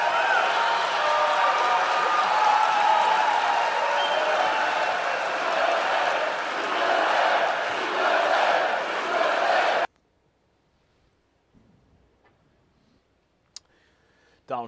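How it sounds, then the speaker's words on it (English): A Trump rally crowd in The Villages cheers wildly in a loud, continuous roar for about ten seconds, then cuts off to near silence with a couple of faint clicks. "Donald Trump down in the villages, the crowd going wild as they do"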